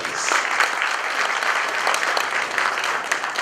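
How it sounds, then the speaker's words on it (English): Steady applause from a crowd, a dense wash of clapping that continues throughout without pause. "A round of applause, please."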